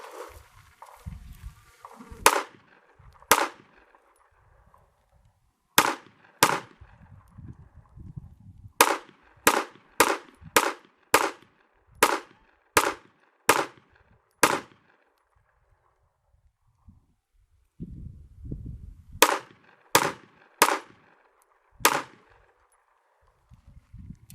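Shots from a Smith & Wesson M&P 2.0 Metal Carry Comp pistol at a range, sharp loud reports fired in quick strings of several with pauses between, plus faint handling and footstep noises.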